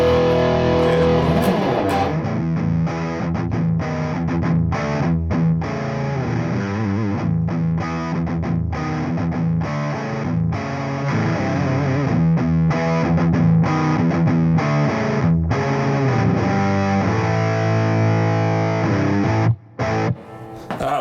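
An electric guitar plays through a Tone City distortion pedal on its Strong setting, a loud, continuous saturated riff of chords and notes lasting about twenty seconds with a brief drop near the end.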